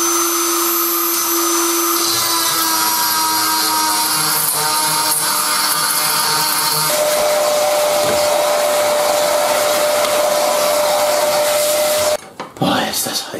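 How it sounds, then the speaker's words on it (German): A Dremel rotary tool grinds out the narrow gaps between drilled holes: a loud, steady high-pitched whine with a rough, rasping edge that runs unbroken for about twelve seconds before cutting off abruptly. "Für die Ritzen dazwischen schnappe ich mir gleich mal den Dremel"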